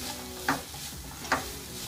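Onions and fennel frying in a pan for mutton cutlets, a soft steady sizzle with two brief scraping stirs close by.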